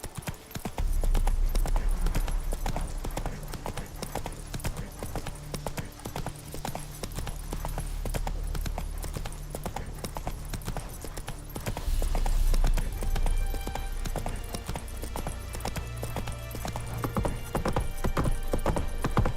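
Horse hooves clip-clop at a steady gallop in The Witcher 3, loud and continuous over a low game-music drone, with a brief whinny-like swell midway.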